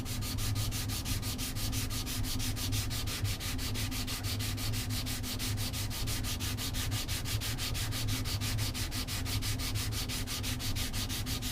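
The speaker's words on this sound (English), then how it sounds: "I'll switch sandpapers to 220 grade" An oboe reed cane, gouged, being rubbed with sandpaper in a steady, rapid back-and-forth rhythm, close and continuous for the whole stretch with no talk.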